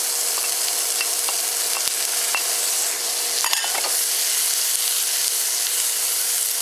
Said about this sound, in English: the pan is smoking again, so I'm going to go on and put my cabbage in, my carrots